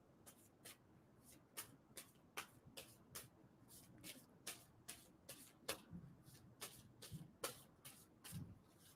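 Playing cards being shuffled, a run of sharp riffling bursts repeating in an uneven rhythm over roughly nine seconds, close and moderately loud, with no talking.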